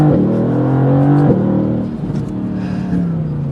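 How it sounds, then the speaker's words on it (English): A 2020 Mercedes-AMG GT C engine revs loudly and close in first gear from standstill, its pitch climbing steadily, then a brief shift and it pulls again with a strong droning exhaust note. "put it into first gear and just floor it"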